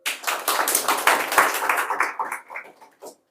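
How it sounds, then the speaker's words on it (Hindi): Students in a classroom clap together in a short burst of applause that thins out into a few scattered claps before stopping. "ताली बजाओ।"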